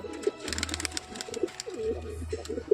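Pigeons coo close by, several soft throaty calls repeating in an uneven rhythm over a low rumbling background.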